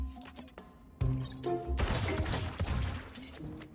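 Rapid bursts of automatic turret fire in the Valorant game, sharp repeated shots that grow dense and loud partway through, layered over a low electronic game hum.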